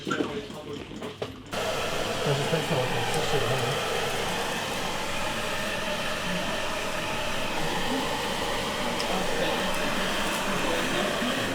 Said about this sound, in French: Je dois mettre le sèche-cheveux.